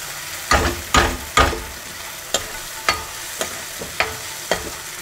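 Tomatoes fry in a pan for a Karnataka-style methi rice bath while a spoon stirs them, giving a series of sharp scraping clacks at an uneven pace over a quiet sizzle, with no talking.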